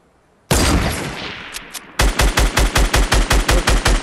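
Fortnite gunfire, with a sharp loud blast that decays, then a fast, even string of about a dozen close, punchy shots.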